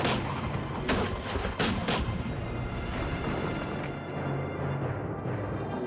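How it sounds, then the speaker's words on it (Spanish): Artillery fire against the medieval town walls of Drogheda, heard as a dense, continuous roar of gunfire with several sharp, loud blasts early on, then a steady, rumbling barrage. "la artillería de Cromwell abría fuego contra las murallas de Drogheda"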